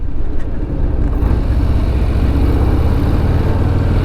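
A 2023 Harley-Davidson Breakout's Milwaukee-Eight 117 V-twin running, a loud, close, steady low rumble with a throbbing beat and no pauses.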